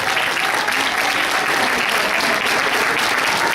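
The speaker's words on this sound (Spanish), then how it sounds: "Un aplauso para el doctor en filosofía Óscar de la Borbolla." A lecture audience gives steady, dense applause for a philosophy doctor, close and loud throughout without pause.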